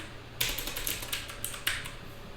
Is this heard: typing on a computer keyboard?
yes